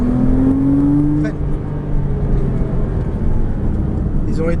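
A Porsche Cayman S accelerates on a race circuit, its engine note rising steadily and loud up close before easing off, with a co-driver's voice coaching over it.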